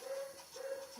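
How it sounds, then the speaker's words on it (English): A pet dog barks and whimpers in a home, its high, tonal yelps coming in two stretched bursts close by against a faint room background. "my dog is barking and he's very distracting at the moment"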